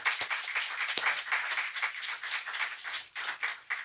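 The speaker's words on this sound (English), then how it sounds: "They deserve a round of applause for being just the best." Audience applause for conference panelists, a steady wash of many hands clapping with a few sharper individual claps standing out, sustained at moderate level throughout.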